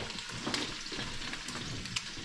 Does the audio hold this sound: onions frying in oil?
yes